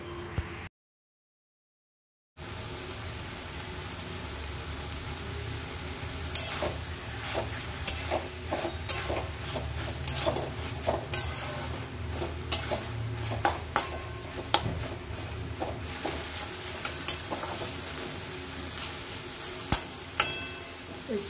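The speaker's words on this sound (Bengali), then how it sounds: "জলটা দিয়ে 5 মিনিট ভালো করে নাড়াচাড়া করলেই হয়ে যাবে কুমড়ো শাকের চচ্চড়ি" Pumpkin greens chorchori cooks in a pan with a splash of water, a continuous sizzle broken by repeated scraping and clinking strokes of a utensil against the pan, close by, after a brief silent gap at the start.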